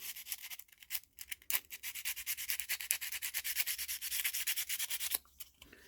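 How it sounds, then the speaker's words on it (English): A folded strip of 120-grit sandpaper rubs back and forth inside a metal knife liner, a quick series of soft, scratchy strokes in a steady rhythm, close and fairly faint. "now to deburr the inside of the metal liners, I just fold my 120"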